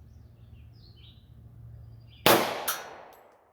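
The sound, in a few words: 45 ACP Gold Dot rounds fired over a chronograph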